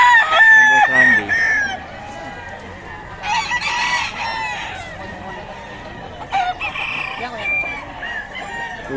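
Roosters crow repeatedly and chickens cluck close by at a spot crowded with poultry, the loud crows rising over a busy background of birds with faint voices mixed in.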